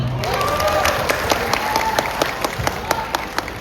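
An audience at a night stage show applauds, with dense clapping throughout and a few louder individual claps standing out near the end.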